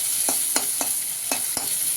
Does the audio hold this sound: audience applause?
no